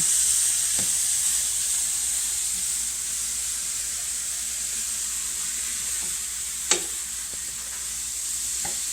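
Sliced zucchini sizzling and hissing steadily in oil in a pan, a constant close frying noise with occasional faint clicks of stirring and one brief sharp clink partway through.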